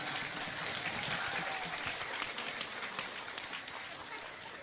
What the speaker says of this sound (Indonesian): Ayo kasih tepuk tangan, kasih tepuk tangan.